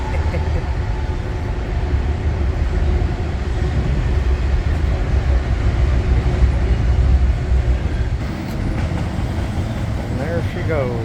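Train crossing a trestle near Multnomah Falls in Oregon, a continuous broad rumble and rattle of rail cars rolling steadily at moderate distance, with a person talking over it.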